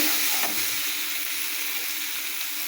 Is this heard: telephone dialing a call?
no